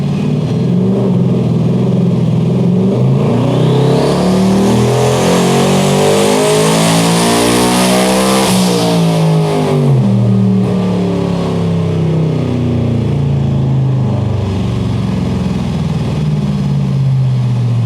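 Turbocharged 2024 Ford F150 with a 10R80 transmission revs hard and steadily climbs under boost, a loud, close engine roar that rises to a peak with a whistling turbo whine, then falls away and settles.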